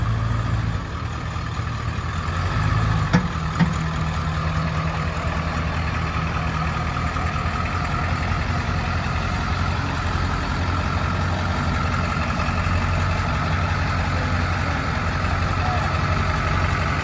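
A log truck's engine idles with a steady low diesel rumble while it pulls onto a weigh scale, continuous and close with no break, and a faint voice now and then.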